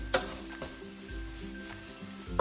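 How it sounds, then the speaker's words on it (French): Mushrooms cooking in oil in a pan, a soft sizzle with a few utensil scrapes and taps as they are stirred, no voices. "Donc vous remuez un petit peu vos champignons, jusqu'à temps, on va faire réduire en fait."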